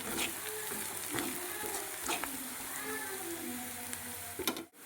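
Onions cook in a pan while salt, turmeric and chili are stirred in, with a soft steady sizzle under scraping spoon strokes against the pan.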